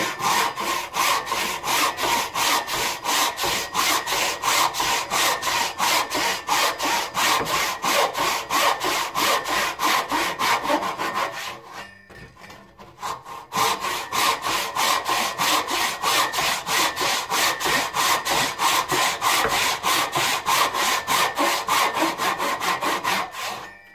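Hand saw cutting through wood for a hand-made mortise and tenon joint: steady, rhythmic back-and-forth rasping strokes, close and loud, with a brief pause midway before sawing resumes.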